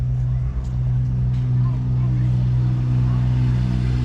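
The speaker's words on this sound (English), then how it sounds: "We have a Minneapolis Moline diesel." A Minneapolis Moline 880 diesel tractor at a grange fair idles with a steady, loud, low throbbing drone. Faint voices and crowd noise sit in the background.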